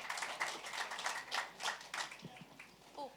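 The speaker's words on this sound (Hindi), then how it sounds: "बहुत सारे तालियां हो जाए सर के लिए" Audience applause for a film's lyricist at a trailer and music launch event for a romantic comedy, scattered claps in an irregular rhythm from a moderately distant crowd, with brief voices near the end.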